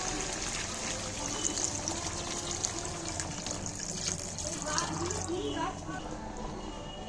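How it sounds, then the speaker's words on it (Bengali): Warm water poured into a pot of chicken and potato curry, a steady splashing trickle for several seconds over a dull kitchen background hum. "একটু সামান্য গরম জল দিচ্ছি"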